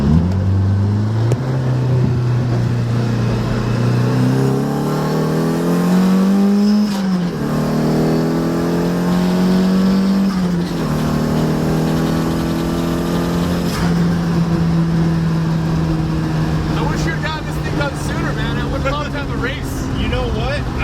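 An SR20-swapped Mazda FB RX7 engine pulling hard from inside the car, a loud droning tone climbing through the revs, dipping at a gear change and climbing again, with someone talking over it.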